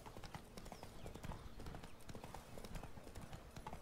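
In the Witcher 3: Blood and Wine video game, horse hooves clip-clop in a fast, steady trotting rhythm on firm ground, moderately loud and continuous throughout.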